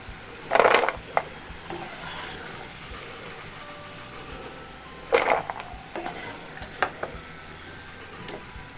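Besan-coated chickpeas roasting in a pan, giving a soft continuous sizzle broken by a few loud scraping, rattling stirs near the start and middle, close and without talk.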